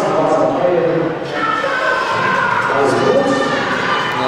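An indoor volleyball arena crowd cheers and shouts loudly and continuously at a women's match between Schweriner SC and VT Aurubis Hamburg, a dense roar of many voices with higher shrieks throughout.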